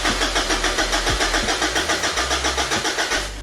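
A Mitsubishi L200 Triton with a 3.2L 4M41 diesel engine cranks over with a loud, steady rhythmic starter churn that pulses evenly, close up, with no talking.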